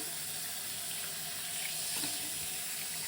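A tap runs steadily, rinsing foam off a rhinestone phone case, water splashing into a sink in a constant hiss with no pauses or voices.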